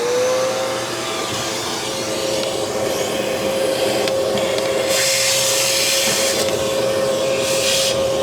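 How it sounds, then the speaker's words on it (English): A vacuum cleaner runs continuously with a steady high whine and a shifting rushing noise as it moves over surfaces of a Jaguar XJ6, close and loud. "I want to give it a quick little vacuum"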